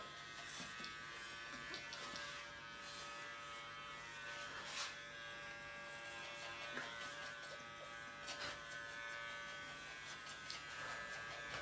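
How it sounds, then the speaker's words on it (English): An electric clipper grooming a toy poodle, buzzing steadily and faintly throughout at low level with small scraping bumps, no talk. "I find it easier with a clipper."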